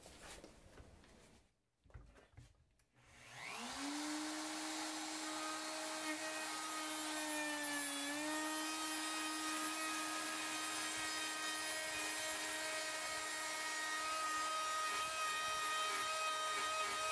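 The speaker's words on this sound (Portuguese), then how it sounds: "Vou pegar agora a tupia grande, baixar aqui uns 8 milímetros de profundidade só. E vamos fazer o rasgo também novamente." A large wood router bites into a log, cutting a groove about 8 mm deep: a sustained, loud whining drone that spins up after a brief start and holds steady, alone with no talk.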